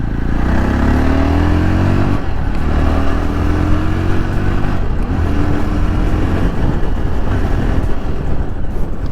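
A Yezdi Roadster motorcycle engine hums and rises in pitch as it is ridden, loud and continuous under heavy wind rush across the microphone.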